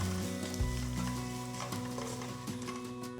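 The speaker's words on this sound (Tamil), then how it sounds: "ஸ்டோவை மீடியம் ஃப்ளேம்லேயே வச்சு பூண்டை 1 நிமிஷம் வதக்குங்க." Steady, crackling sizzle of garlic frying in hot oil over a medium flame, close and moderately loud, with faint stirring clinks.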